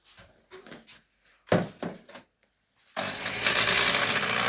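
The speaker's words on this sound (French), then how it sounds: "Donc je vais commencer à la mixer." An electric mixer whips liquid cream meant for chantilly: a few soft knocks and handling noises first, then the beaters start with a loud, steady whirring hiss that runs to the end.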